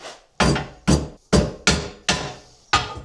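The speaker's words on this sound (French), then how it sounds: "2-3 coups de masse, on desserre, et on a une rondelle tordue" A sledgehammer strikes a washer held in a vise six times in a steady rhythm. Each blow is a loud, close metallic impact that rings briefly before fading.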